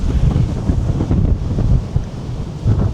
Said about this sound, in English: Pretty scary up here actually, it's that windy.